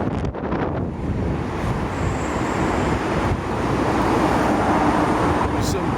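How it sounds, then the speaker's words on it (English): Steady, loud wind on Sauchiehall Street in Glasgow, Scotland, buffeting the microphone, a constant low roar with no pauses throughout. "Oh, it's windy."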